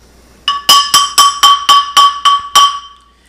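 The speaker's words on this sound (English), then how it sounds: "That is the use of tile as a musical instrument." Eight ringing strikes on cut pieces of tile played as a makeshift xylophone, each bright glassy clink sustaining briefly, evenly spaced and loud with a sharp attack, heard alone.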